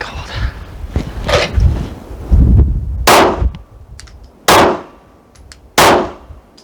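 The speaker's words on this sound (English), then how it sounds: "Three shots." Rifle shots ring out while a rifle is zeroed in cold, high wind. There are three loud, sharp reports spaced apart, with gusts of wind buffeting in the first half.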